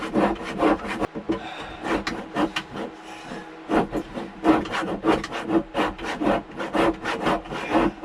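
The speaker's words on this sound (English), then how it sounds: "Hardwood and a fine saw." A fine-toothed saw cuts through hardwood in a boat frame repair on a wooden Tahiti gaff cutter, rapid rasping back-and-forth strokes close by with one short pause partway through.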